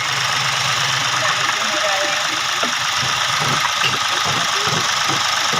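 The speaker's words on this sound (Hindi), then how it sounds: "देख सकते हैं आप ये हमारी गाड़ी हो चुकी है स्टार्ट। साउंड सुन सकते हैं आप, बिल्कुल एकदम बढ़िया साउंड है।" Mahindra TUV 300 diesel engine idling after an overhaul, a steady close rumble with faint rhythmic clatter, people speaking over the running engine.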